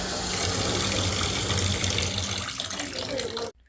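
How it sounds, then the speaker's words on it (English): Water runs steadily from a faucet in a basement bathroom, a loud continuous splashing gush that holds for about three and a half seconds before cutting off abruptly. "just to see the water running."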